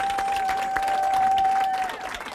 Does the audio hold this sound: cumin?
no